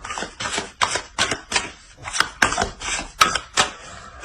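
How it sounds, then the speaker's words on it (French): Tarot cards being added to a spread and shuffled, heard up close as a steady run of crisp slaps and riffling bursts roughly every half second, with no talking. "On va rajouter des cartes."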